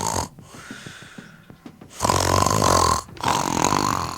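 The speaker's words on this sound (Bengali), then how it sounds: "নাক ডাকার শব্দ আমার বিরক্ত লাগে।" Snoring from a sleeper, close and loud: a series of short rattling, snorting pulses, then two long, harsh drawn-out snores, with no talking.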